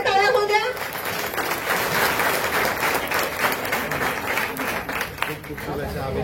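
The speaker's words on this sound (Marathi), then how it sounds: "जोरात टाळ्या होऊ द्या." A crowd at a traditional ukhana competition in Ambajogai claps loudly and continuously, a thick wash of applause right after a brief spoken announcement at the start.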